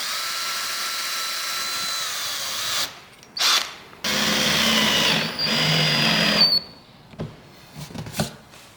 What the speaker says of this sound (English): So what we're doing here is just pre-drilling the holes.